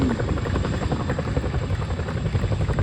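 A Chinook helicopter from the display team at the Farnborough airshow drones loudly and continuously, its twin rotors beating in a steady, rapid thudding throb throughout.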